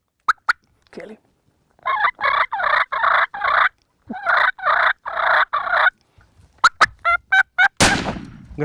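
Wild turkeys gobble repeatedly during a spring turkey hunt, several loud rattling calls in quick bursts, followed by a sharp shotgun blast near the end.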